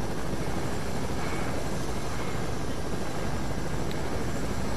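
Helicopter in the Fortnite video game, a steady dense rotor and engine drone filling the whole stretch at moderate loudness, with no talk over it.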